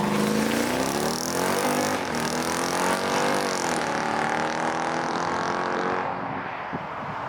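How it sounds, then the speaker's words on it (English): A 2018 Jeep Grand Cherokee SRT driving, with a steady engine hum and road noise from inside the cabin. The sound eases off slightly toward the end. "here we are today driving the 2018 Jeep Grand Cherokee SRT"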